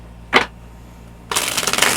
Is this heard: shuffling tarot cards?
yes